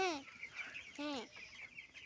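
Farm chickens give two close, nasal clucking calls about a second apart, followed by softer chatter over a quiet room background.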